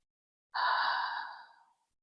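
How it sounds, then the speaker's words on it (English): One long, deep breath taken during a gentle yoga side stretch. It is a single soft, airy exhale that lasts about a second, close to the listener and alone without any talk. "Take some deep breaths here."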